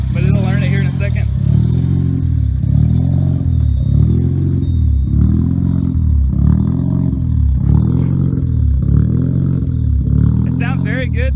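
Freshly started while hot, a single-turbo Mazda RX-7 FD rotary engine idles loud and close in a regular pulsing lope, the rhythm rising and falling for several cycles as it settles.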